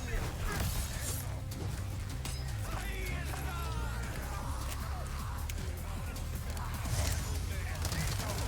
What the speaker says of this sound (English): just letting loose with the submachine gun is great on these guys when they're infected